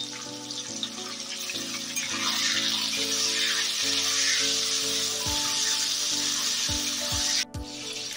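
Capsicum and chopped tomato fry in a pan, giving a constant close sizzling hiss, with soft bumps and scrapes of stirring and light background music tones running underneath.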